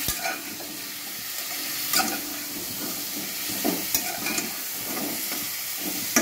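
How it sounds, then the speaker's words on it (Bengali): Spiced masala with homemade chicken masala powder is sautéed over a high flame, with a steady hissing sizzle and periodic spatula scrapes and knocks against the pan, near and fairly even, without voices. "কষে নেব, আঁচটাকে জোর করে কষবেন"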